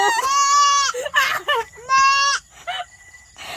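A child imitates a goat, letting out several loud, wavering bleats close by in a short back-and-forth pattern, with a brief voice between them.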